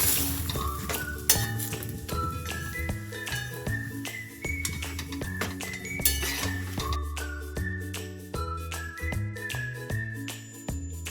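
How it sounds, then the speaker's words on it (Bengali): Paratha frying in a pan in a home kitchen, heard as a steady sizzle with clinks of utensils and pans over music-like tonal layers, no talk. "এদিকে আমার পরোটা ভাজা চলছে।"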